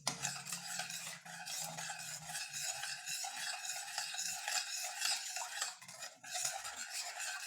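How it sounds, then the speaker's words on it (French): A utensil stirs béchamel sauce with added milk in a pot for lasagna, a continuous close scraping and swishing that runs steadily throughout with no talk. "Et je touille."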